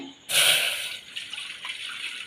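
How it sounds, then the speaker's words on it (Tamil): Milk poured into a pot on a stove, a sudden broadband liquid gush that starts abruptly, stays loud for a moment, then settles into a steady, softer stream. "பால் சேர்த்துக்கலாங்க. நான் 1/4 லிட்டர் பால் சேர்த்துருக்கேன்."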